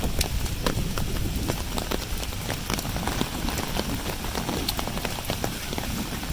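Rain falls during a thunderstorm in Plovdiv, a dense, continuous patter of drops hitting the ground and nearby surfaces, loud and even throughout with no thunder.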